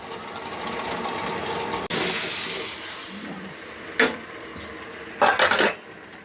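Mango chutney, mango pieces that were soaked in water, boils in sugar syrup in a village kitchen, a steady hissing, bubbling simmer that turns louder after a sharp bump and is broken by a few brief utensil clatters near the end.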